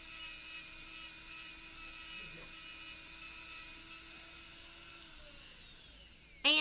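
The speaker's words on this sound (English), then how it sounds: "I went ahead with the Dremel and started sanding down the little bump that it makes from taking off that back part" A Dremel rotary tool sands down a small bump on a plastic button, giving a steady, close, continuous high whine with no talking.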